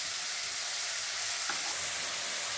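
Finely chopped tomatoes and spice powders sizzle and fry in a hot pan while being mixed, a steady bright crackle with a brief stirring scrape midway, close and continuous with no talking.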